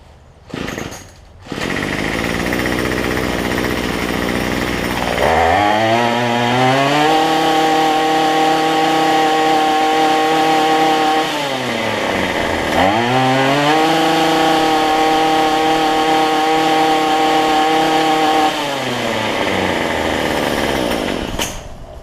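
Small two-stroke engine of a cheap gas string trimmer running after a carburetor replacement: it starts, idles, then revs up into a loud buzzing whine, drops back briefly, revs again and settles near the end, close and loud.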